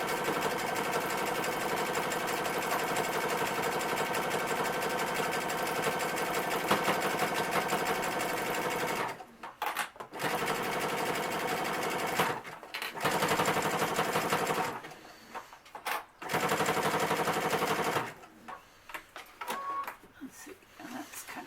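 Sewing machine stitching a medical face mask with a wire insert, running in long continuous loud whirring stretches broken by several short pauses, close and steady with no talking.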